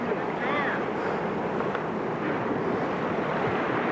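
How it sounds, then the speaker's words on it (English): River white water rapids roaring steadily from below, a dense broad rush of churning water mixed with wind buffeting the microphone, with a voice briefly audible over it. "Here's some white water down there."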